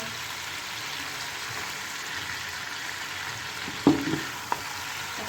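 Chicken frying in a pan with chopped garlic and garlic powder gives a steady close sizzle, broken by a couple of sharp clinks of the stirring utensil against the pan near the end.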